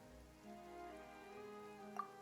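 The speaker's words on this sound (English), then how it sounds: "Yet today, the downpour arrived on schedule." Steady rain downpour in the video game Genshin Impact, a continuous soft hiss of falling water with faint musical tones underneath and a brief brighter splash near the end.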